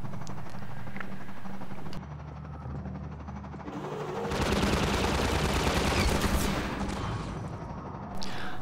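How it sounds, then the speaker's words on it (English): Enemy gunship gunfire in Half-Life 2 Episode 2: sustained, rattling bursts of rapid shots with a heavy low rumble beneath. The fire swells loudest in the middle stretch and carries on without any voices. "So now we're going to have to do the gunship dance and have a look around the level while avoiding enemy fire"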